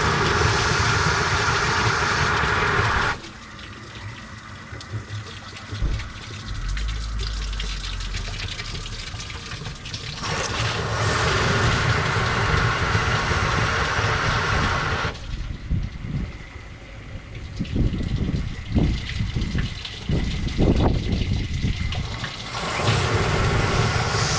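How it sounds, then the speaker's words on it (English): A flush gun blasts water and air through the cooling system of a 2009 Nissan Frontier SE, loud bursts of gushing, sputtering spray alternating with quieter stretches as the trigger is pulled and released. "flush gun, I'm going to be flushing out with water and air"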